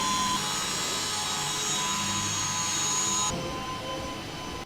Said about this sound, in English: Now you can watch how the polishing of the golden hood of the first Porsche 911 Turbo S Exclusive Series took place.